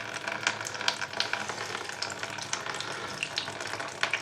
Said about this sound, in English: obviously quite a bit of water because it's coming out okay